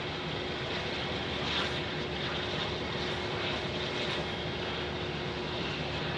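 A Boeing 737 airliner at Phoenix Sky Harbor airport gives off a steady, loud whine and broadband roar of jet engines that holds unbroken throughout, with no voices.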